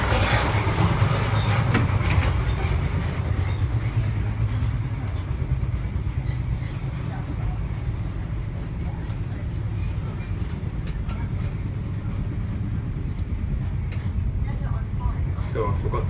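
Inside a running GWR InterCity 125 High Speed Train first-class carriage, a steady low rumble and rolling noise fills the space continuously, with faint murmuring in the background.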